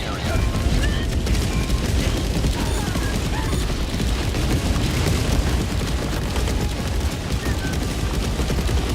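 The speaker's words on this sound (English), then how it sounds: "Firing orbital barrage." Orbital barrage strikes in a video game land as a dense, continuous roll of booming explosions and crackling bursts, heavy and sustained throughout without a pause.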